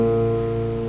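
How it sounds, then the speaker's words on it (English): A single plucked guitar string ringing steadily and fairly quietly, a clear sustained tone with overtones and no other sounds. "So, this is the sound of guitar strings."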